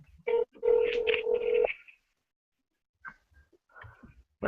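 An outgoing telephone call rings on the line: a short burst of ring tone, then silence with faint clicks and brief sounds near the end.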